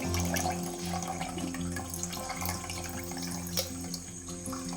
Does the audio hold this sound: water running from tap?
yes